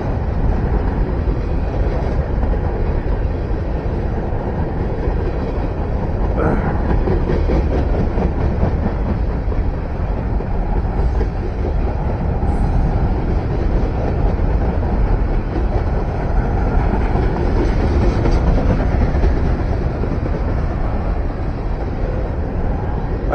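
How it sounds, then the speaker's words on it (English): A loaded Norfolk Southern freight train of trash cars rolls past close by on the Lehigh Line at Phillipsburg, New Jersey, a steady loud rumble with rhythmic clattering of wheels over rail joints throughout. "I hear a train coming."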